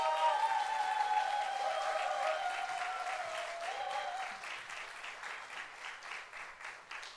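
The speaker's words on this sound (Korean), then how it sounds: "박수로 환영하겠습니다" A church congregation gives enthusiastic applause, many hands clapping in a sustained wash while an organ or keyboard holds tones over the start, the clapping gradually thinning toward the end.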